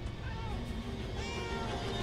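A cat meowing inside the video game Murdered: Soul Suspect, a couple of drawn-out meows over a low game background, while someone talks nearby.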